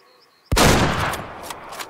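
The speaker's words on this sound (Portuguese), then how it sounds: "acho que esse tiro foi muito baixo" A single sharp crack from a 6.5 caliber hunting rifle in the Way of the Hunter game, loud and close, followed by a rolling echo that fades over about a second and a half.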